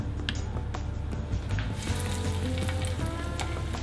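Fries fry in well-heated oil in a pan over medium heat, giving a close, continuous sizzle with scattered crackles, pops and occasional stirring sounds.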